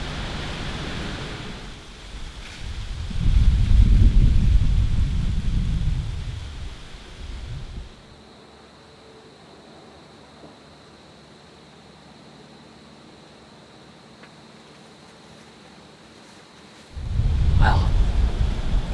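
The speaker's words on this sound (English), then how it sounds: "It's really windy still" Strong wind gusts roar and buffet the microphone in two heavy bursts, separated by a long, calmer stretch of low, steady outdoor noise.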